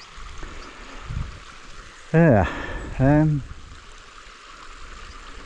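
A river runs across moorland on a hike near Langsett, a steady soft rushing wash that continues throughout, while a person speaks briefly over it twice near the middle.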